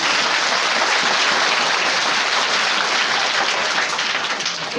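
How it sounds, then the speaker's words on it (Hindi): Audience applause at a farewell ceremony for a teacher, following a poem recitation: dense, steady clapping from a large crowd, loud and sustained throughout with no talk over it. "कृपया अच्छा लगे तो तालियां जरूर बजाएगा"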